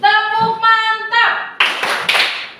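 Seventh-grade students in a religious education class chant, a sustained voiced call, then strike a few sharp, loud group claps in quick succession.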